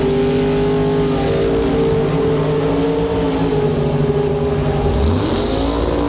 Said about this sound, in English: Taking on that 67 Shelby Mustang, Dale Phillips out of Chetwynd. 700 cubic inches of big block Ford under that hood scoop in that Shelby.